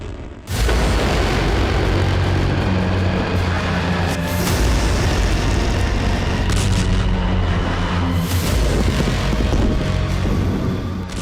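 A dense barrage of heavy booms and rumbling blasts rolls on continuously, loud and layered like MIRV warheads detonating over separate targets, with sharp bursts breaking through the sustained roar.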